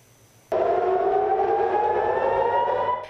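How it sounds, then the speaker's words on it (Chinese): Civil defense air raid siren sounding in Tel Aviv, Israel, during a missile attack: a loud, sustained wailing tone that starts abruptly and holds steady while slowly rising in pitch, with no voices present. "以色列特拉维夫等地以及约旦河西岸同日响起警报"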